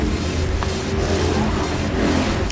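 A race car running on a circuit, a steady engine roar holding at a constant level for a couple of seconds, no voices.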